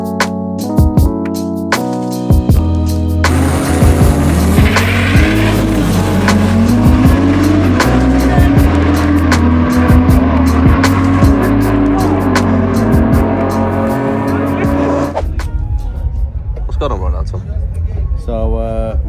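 Drag race car launching down the strip at a hot track, heard as a loud rising engine roar lasting about twelve seconds after a few short idle blips, then fading into quieter background noise at the end.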